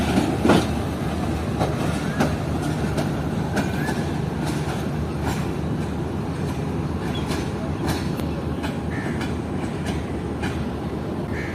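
The Shalimar Express pulls out of Karachi Cantt station, loud and near, its wheels rumbling and clacking steadily over the rails with occasional squeals, and faint voices nearby.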